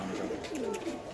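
Pigeons cooing and fluttering at a busy pigeon market selling silver-necked pairs, steady close bird calls over a dense crowd din with faint voices.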